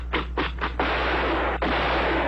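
Gunfire in a film: several quick loud shots in a row, followed by a longer sustained burst of noise that breaks off briefly and resumes, over a low steady hum.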